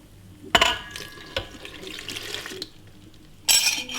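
A cup of water poured over sugar and yeast for pizza dough, a short splashing gush followed by softer trickling and clinks, then a second brief pour near the end; quiet kitchen setting with no talk.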